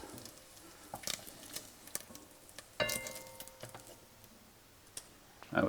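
Beef fat renders in a pan for beef rendang, giving a faint, steady sizzle with scattered ticks and pops and a few brief louder crackles near the end, with no voices.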